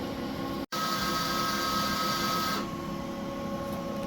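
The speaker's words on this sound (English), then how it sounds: "now it's going and doing a hard clean so it can clear out the tubes and stuff like that" A UV printer running a hard clean cycle to clear its ink tubes: a steady mechanical hum with pump whine and faint tonal drone, briefly cut off once by a pause, then settling slightly quieter.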